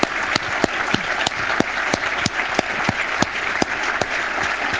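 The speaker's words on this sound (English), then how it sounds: "we can give him a round of applause" A round of applause from an audience at a programming contest report, steady dense clapping with a few sharp individual claps standing out, no talk.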